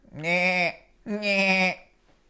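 A voice imitates a goat's bleat, giving two drawn-out, wavering bleats close up and loud, separated by a short pause.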